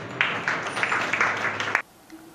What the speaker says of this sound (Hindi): आप सभी लोग जोरदार तालियां बजा दीजिए